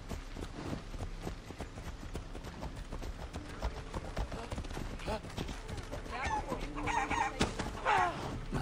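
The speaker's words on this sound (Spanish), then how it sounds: "Las gallinas atacan," Chickens cluck and a rooster crows in the video game Assassin's Creed Odyssey, their calls faint amid game ambience and hoofbeat-like clip-clop, growing more distinct toward the end.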